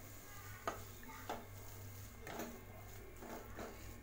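Chopped beetroot with masala sautés in a pan over a medium flame, giving a faint, steady sizzle broken by a few light scraping stirs of a spoon, quiet and close, with no talking.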